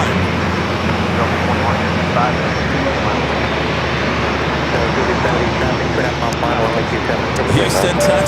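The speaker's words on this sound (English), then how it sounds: "Next arrival is Delta Flight 2155 coming in from Detroit," A Delta Airbus A321 arriving from Detroit at San Diego airport, giving a steady, loud broadband jet rumble that holds level throughout, with some voices faintly mixed in.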